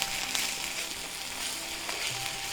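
Ginger garlic paste frying with softened onions in a pan gives a short, steady close sizzle with faint stirring.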